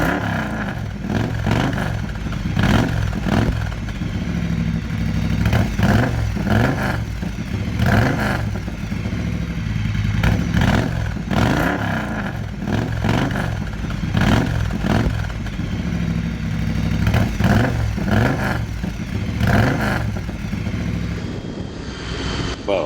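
A Moto Guzzi cafe racer motorcycle rides along a road, its engine droning steadily with rhythmic pulsing surges as the throttle rises and falls, loud and continuous throughout.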